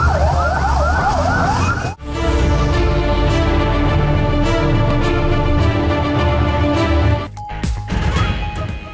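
Fire engine sirens at a plastics factory fire in Karachi, a loud wailing siren at first, then a constant roar of engines and alarms with a brief break near the end, no talk.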